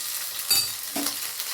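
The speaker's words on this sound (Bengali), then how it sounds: "এবার এটাকে আমি নাড়াচাড়া করে নিচ্ছি, নাহলে আদার একটা কাঁচা গন্ধ তো, তাই জন্য একটু তেলে নেড়ে নিলাম।" Ginger paste fries in hot oil, a steady bright sizzle broken by two short stirring scrapes in the pan, fairly close and with no voices.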